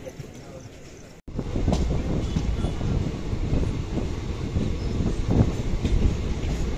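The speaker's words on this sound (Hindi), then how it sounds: "हमारी ट्रेन आई है बिल्कुल 2 घंटे के डिले के साथ, 3 नंबर प्लेटफॉर्म पर अपनी ट्रेन को लगाया गया है।" Sasaram-Dhanbad Intercity Express at Koderma Junction, platform 3, arriving two hours late: a steady rumble of rolling wagons with clattering wheel noise, loud and close. It comes in after a short cut near the start, and a voice speaks briefly over it.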